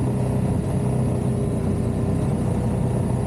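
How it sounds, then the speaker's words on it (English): Triumph Tiger 1200 Rally Pro inline-triple adventure motorcycle heard while riding, a constant loud engine drone at low revs with a grunty, twin-like character and steady rushing wind noise, no voices. "when you're in the low RPM range, it's got kind of a grunty sound, almost like a twin"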